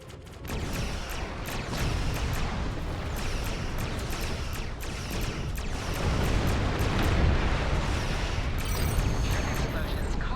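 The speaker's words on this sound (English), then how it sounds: "Explosions cause damage." Repeated booming explosions and crackling blasts rumble through a dense, loud space battle din in Star Trek Online, several bursts in quick succession.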